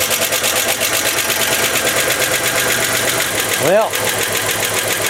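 A 1991 Dodge Caravan with a fuel pressure fault idles loudly and steadily throughout, a brief revving swell near the end, while a person speaks over it.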